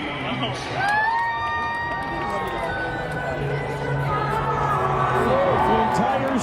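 A baseball stadium crowd at a Colorado Rockies game gives a standing ovation for a player in his final game, a broad roar of cheering and whistles with whoops rising over it, growing louder toward the end.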